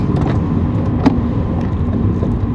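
Heard from inside, a car drives along with a steady low road and engine rumble that stays constant under faint cabin noises and a brief click.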